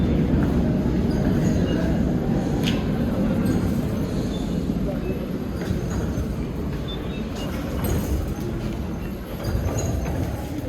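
Interior of a Colombo metro train in motion, a loud continuous low rumble and rattle of the carriage on the rails with faint squeaks and indistinct background voices.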